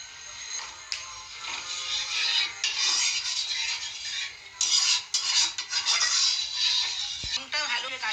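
Homemade tomato sauce stirred in a pan with a spoon, giving repeated scraping and rubbing strokes against the metal, close and fairly steady, with a brief clink near the end.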